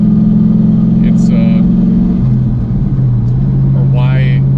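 A 2008 Ford Mustang with a swapped Coyote V8 driving, its steady low engine drone filling the cabin and dipping in pitch as it shifts, with brief faint chirps and creaks over the hum.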